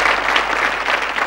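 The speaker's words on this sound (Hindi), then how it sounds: "इनके लिए तालियां बजा दीजिए।" A brief burst of dense audience applause at a quiz event for a team that has just answered correctly, many hands clapping together evenly and fairly loudly, with no voices over it.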